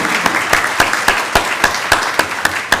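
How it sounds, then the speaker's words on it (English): A crowd applauds the band kids with a dense patter of clapping, punctuated by sharp, evenly spaced louder claps that keep a regular beat. "let's give all our band kids a round of applause"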